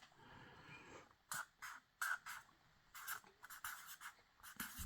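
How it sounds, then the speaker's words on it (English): A colored pencil scratches across paper in short, close, quiet strokes with irregular pauses, heard alone in a hushed setting. "Another attempt at another shocking drawing."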